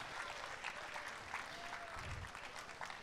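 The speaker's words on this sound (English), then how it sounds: "Please give him a big round of applause." Applause at a company promotion ceremony for a newly promoted sales master, a steady, fairly soft wash of clapping from a crowd, with a brief tone and a low thump in the middle.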